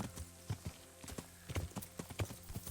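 Horse hooves clip-clop in Kingdom Come: Deliverance, a soft, close, uneven trot of hoof beats with a faint rustle between steps.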